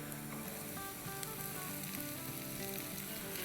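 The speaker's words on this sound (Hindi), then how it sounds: "अब ये सौटे हो रहा है" Chopped green and red bell peppers sauté in a pan, giving a constant close, even sizzle with a few faint stirring clicks and no talking.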